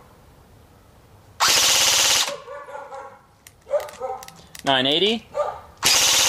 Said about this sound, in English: So you're shooting around the 1000 rounds per minute area.